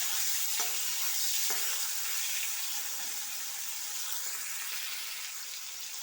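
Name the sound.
frying shrimp in a pan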